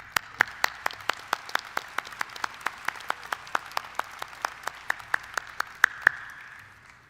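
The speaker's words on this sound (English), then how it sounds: "If we can give Dean Valenza another round of applause." Applause at a dentistry school commencement, heard as a sparse series of distinct sharp claps in a fairly even rhythm, roughly four per second, over a faint background wash of distant clapping.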